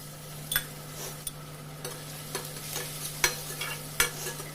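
Vegetables fry quietly in a kadhai with a low, steady sizzle, and a spoon scrapes and taps against the pan every so often.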